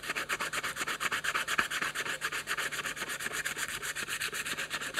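Sandpaper rubs back and forth over a handmade wooden spatula in steady, rhythmic strokes, close and continuous, with no voices.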